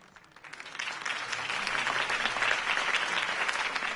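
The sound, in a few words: crowd applause in Batman: The Telltale Series video game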